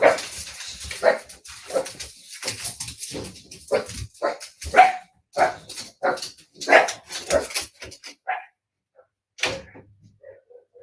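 Dogs barking excitedly at birds in a backyard, a rapid run of loud close barks with a whimper or two, then dying down to a few scattered barks.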